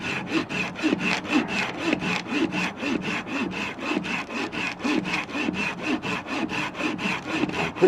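A hand saw with stamped teeth cuts through poplar wood in a steady back-and-forth rhythm of rasping strokes, about three per second, close and clear with no talking.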